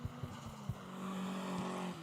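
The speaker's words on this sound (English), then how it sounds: "A turboed MX-5, they're not as raspy, they just sound nice." Turbocharged Mazda MX-5 race car engine during qualifying at Three Sisters Circuit, a few short throttle blips followed by a sustained smooth, fairly distant drone, with no talking.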